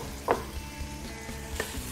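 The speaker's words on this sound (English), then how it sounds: "And you can hear that sizzle there." Oil sizzles in a Beaumark Hot Pot speed cooker, a steady frying hiss with a couple of brief sharper crackles or stirring clicks, close and alone without voices.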